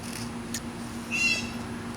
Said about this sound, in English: you're going to hear some birds, and one's already squawking out there.